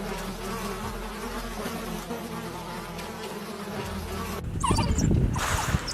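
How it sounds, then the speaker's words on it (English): A dense, steady buzzing of a swarm of angry bees fills the air, then cuts to louder, closer droning and rustling near the end. "A swarm of angry bees sent the king running."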